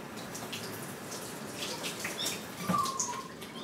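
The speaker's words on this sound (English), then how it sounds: "Let me wash my hand here." Tap water running steadily into a kitchen sink while someone washes their hands, a soft continuous splashing hiss with a few brief clinks, fairly quiet and close.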